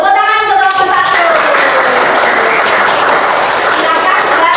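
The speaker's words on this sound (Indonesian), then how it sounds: "Tepuk tangan untuk kelompok 1" Children clap together for group 1 in a classroom, a loud, dense burst of applause that runs steadily for several seconds, with a teacher's voice heard at the start.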